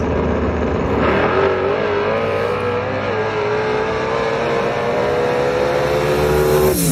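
Loud, continuous roar of street race cars accelerating hard, the pitch climbing steadily as they rev, with no voices.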